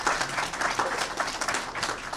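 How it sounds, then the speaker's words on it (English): A press conference audience gives a brief burst of scattered applause. It sounds fairly soft and slightly distant, with no speech over it. "It's okay to clap."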